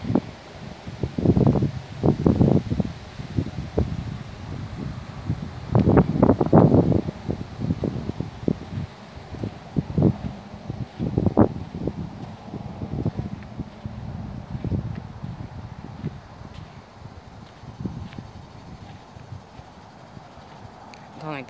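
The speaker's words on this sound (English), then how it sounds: "Oh, the wind's bad." Gusty wind buffets a microphone on a river bank, rumbling and roaring in uneven bursts throughout, with rustling mixed in and a voice speaking briefly.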